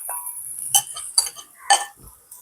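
Beaten eggs going into a pan of noodles and being stirred: a few sharp metal clinks and scrapes of a utensil against the pan, spaced irregularly over a faint background.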